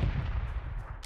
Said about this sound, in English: My shot just went right through him